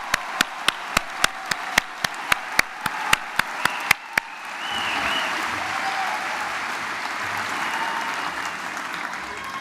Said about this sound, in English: One more round of applause for the 2018 graduates of the BBA program of the Cox School of Business.